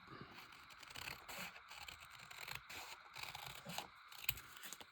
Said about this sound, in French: J'attrape les grands ciseaux.